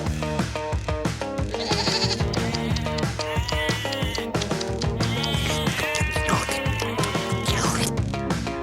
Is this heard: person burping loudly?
no